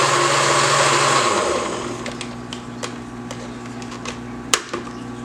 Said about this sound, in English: over here I have my blender right here.